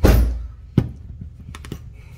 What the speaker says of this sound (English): put it right there over the zipper, give it a whack, and it breaks those teeth right off